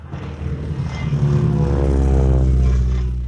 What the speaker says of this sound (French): Nous avons pu voir en vol des avions historiques comme le triplan DR-1, le Max Olsen Brussard